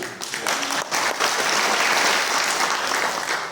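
A church congregation applauding at a Sunday worship service, a loud, dense burst of clapping that swells and holds steady for a few seconds before easing slightly.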